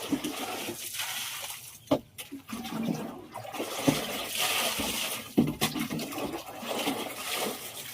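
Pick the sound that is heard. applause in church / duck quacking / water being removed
water being removed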